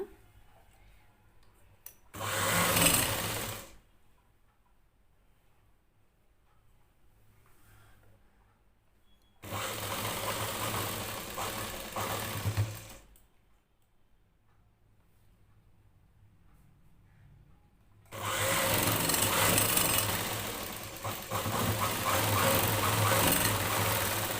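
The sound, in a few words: sewing machine stitching a plain blouse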